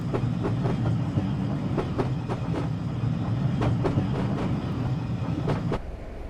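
Class 33 diesel locomotive hauling old Mark 1 passenger coaches, heard from inside a coach in Train Simulator: steady rolling rumble with regular clickety-clack of wheels over rail joints, close and continuous until it quiets near the end.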